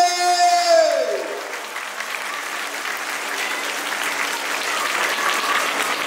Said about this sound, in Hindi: बहुत सारी तालियां सबके लिए।